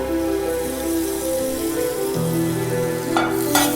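A spoonful each of minced garlic and ginger sizzles in hot oil for a chicken Manchow soup, giving a steady, close frying crackle with a brief sharper burst near the end.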